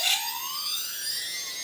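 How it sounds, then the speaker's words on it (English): A Typhoon H drone motor, recovering from water damage, emits a rising electronic tone that sweeps steadily upward, clear and fairly close, with no speech. "We have a beeping, so the motor's probably still working."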